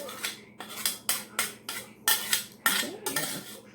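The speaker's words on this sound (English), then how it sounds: "Now, I like to take a clean cookie sheet. Grab this little spoon." A small spoon scrapes and scoops cooked potatoes onto a clean metal cookie sheet in about eight evenly spaced, close, crisp strokes, each a short scraping clink, with no talking.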